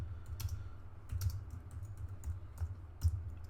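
Typing on a computer keyboard while entering trade setup notes, a quick irregular run of light clicks and key taps, close and quiet over a low background hum, with no talking.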